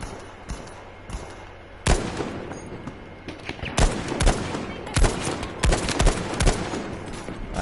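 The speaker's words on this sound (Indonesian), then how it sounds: "Awas mas, saya juga menembak." Battlefield V gunfire crackles in sharp, irregular bursts, with loud close shots and rapid volleys that grow denser toward the end over a low background rumble.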